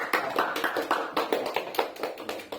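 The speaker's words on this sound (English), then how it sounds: "Please give a round of applause." A small audience at a club meeting claps for the day's acting presiding officer, giving a quick round of applause made of soft, fairly faint handclaps in an uneven rhythm.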